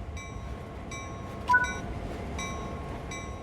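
Locomotive rolling along in the train game Train Sim World 5 on Sand Patch Grade, a steady low rumble with faint repeating tonal chimes and one brief clank, quiet and even, no talk.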